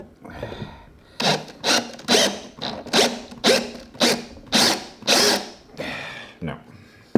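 A power drill turning a Speed Out Pro screw extractor whirs in a series of about ten short, evenly spaced bursts, biting and grinding into a stripped screw up close.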